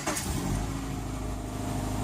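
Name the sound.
Subaru Impreza engine starting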